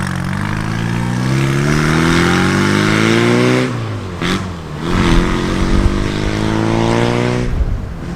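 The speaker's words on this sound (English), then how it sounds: "there is the side pipe, which makes the A series very, very loud" A classic BMC car with an A-series engine and a loud side-pipe exhaust rumbles close by at an evening classic car meet, revving with rising pitch, then dropping and revving again, loud and raspy throughout.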